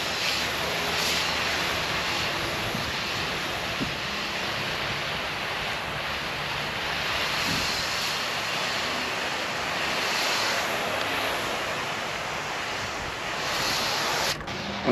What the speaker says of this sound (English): Let's go ahead and rinse it again.